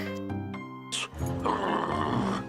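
Cartoon dog Scooby-Doo barks and growls excitedly at cats in an animated scene, with loud, voiced barks that give way to a rough, roaring outburst.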